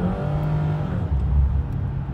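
A car engine revs steadily in third gear while the clutch slips, giving a sustained, fairly loud droning hum with no talk over it.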